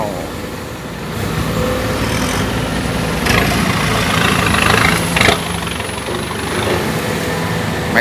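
A backhoe excavator scoops soil into dump trucks at a digging site, heavy diesel engines idling and rumbling continuously, with occasional clanks and surges as the loads drop in.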